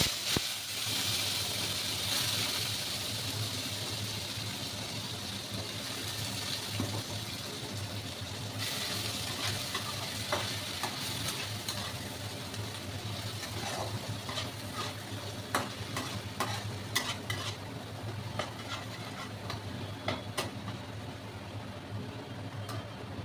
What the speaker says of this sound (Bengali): এবার দিয়ে দিচ্ছি পেস্টটা।